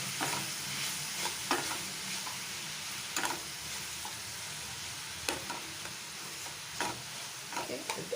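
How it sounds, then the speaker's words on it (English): Onions with salt fry in a pan, a constant crackling sizzle punctuated by regular scraping stirs of a spoon, close and steady throughout. "And stir this all very well."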